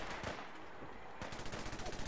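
A Protectron robot fires its weapons during Fallout 4 gameplay, producing a dense stuttering volley of rapid gunshot-like blasts that carry on into a quick rhythmic burst, fairly close and loud.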